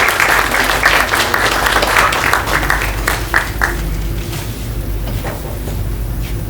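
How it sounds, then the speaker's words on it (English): An audience at a stage play gives a burst of applause, dense clapping for several seconds that thins out into scattered claps before settling. "A big hand of applause for ma'am and sir."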